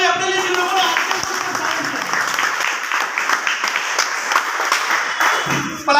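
Loud, dense applause from a seminar audience fills the whole stretch, a steady wash of many hands clapping with voices mixed in underneath.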